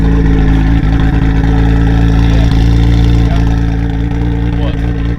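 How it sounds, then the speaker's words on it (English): Car engine with the exhaust cutout open, a loud, deep, throbbing rumble that stays close and steady throughout, pulsing slightly as it revs. "It's got the exhaust cut."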